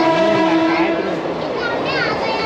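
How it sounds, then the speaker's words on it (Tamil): A train rumbles past a crowded Dharavi neighbourhood with a broad, continuous roar, while nearby voices chatter over it. "இப்போ ட்ரெயின் வந்து எடுத்துருவாங்க."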